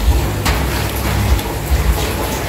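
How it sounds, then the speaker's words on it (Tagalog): Steady, dense rain hiss fills the clip, with a few low rumbles and thumps underneath, fairly close and continuous. "Ulan, ulan, ulan, ulan."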